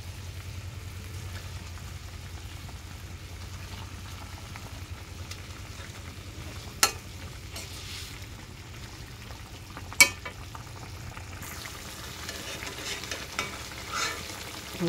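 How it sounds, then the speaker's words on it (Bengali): Fried fish stirred in a pan with a soft continuous sizzle and faint scraping, punctuated by a couple of sharp clinks of a utensil against the pan. "যে ভাজা মাছটা একটু কষায় নিব।"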